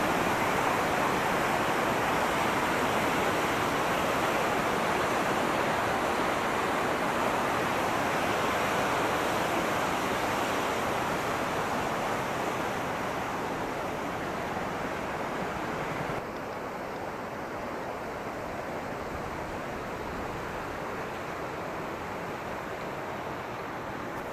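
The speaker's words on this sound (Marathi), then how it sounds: "धरणातून वाहणारा हा इंद्रायणी नदीचा प्रवाह पावसाळ्यात जोरदार वाहतो" The Indrayani river at Kundmala pours out from the dam as a steady broadband roar of rushing water. It sounds fairly close and eases slightly in loudness partway through.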